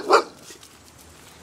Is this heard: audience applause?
no